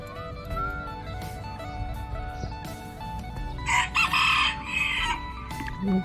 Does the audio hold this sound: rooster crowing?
yes